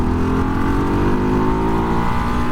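A 2024 Ducati Hypermotard 698 pulls hard in third gear in sport mode from about 34 mph, its single-cylinder engine revving up in a loud, close, rising drone with wind rush.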